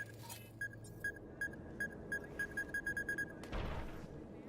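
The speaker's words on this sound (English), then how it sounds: "Why do I keep hearing that? What is that beeping?" A steady series of short, high-pitched electronic beeps repeating at a quick, even pace, fairly faint, with a brief rustling burst near the end.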